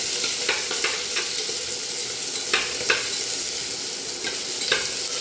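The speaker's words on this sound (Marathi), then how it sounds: "त्याच्यावरती हा कांदा घालूया. छान परतून घेऊया." Onion sautéing in a pan with green chillies for veg pulao, a constant hissing sizzle punctuated by a handful of sharp scraping stir strokes, close by and with no voices.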